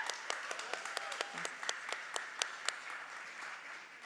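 Audience applause at the Asia Pacific press conference for Citadel, a moderately quiet room of clapping with distinct individual claps standing out in a loose, uneven rhythm, no speech over it.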